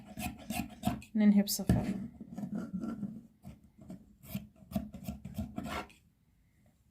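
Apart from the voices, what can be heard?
scissors cutting fabric for a dress pattern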